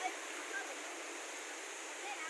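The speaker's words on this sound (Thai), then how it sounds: "น้ำตกหนานโจรบ้านรวยไม้แก่น" Water rushes at Nan Chon waterfall, Huai Mai Kaen, in Ron Phibun, Nakhon Si Thammarat, a steady, unbroken hiss of flowing water with little variation, thin in the low end.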